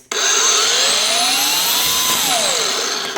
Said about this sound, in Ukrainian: Вдягається ось така насадочка, і тоді вона стає повітродувкою.